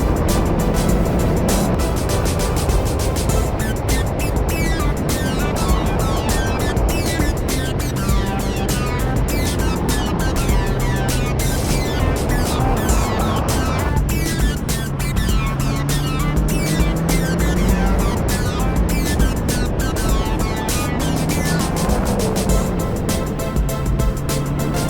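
Mazda Miata NC engine working hard through a smooth autocross run, revs rising and falling in repeated sweeps with shifts and tire noise, loud and close throughout, no voices.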